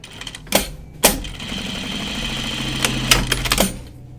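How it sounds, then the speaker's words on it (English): A sewing machine stitches through twill and catches on an old stitch, running with a rapid mechanical chatter broken by sharp knocks and clunks at irregular intervals, close and fairly loud. "My machine really wants to grab that old stitch though and stay on it."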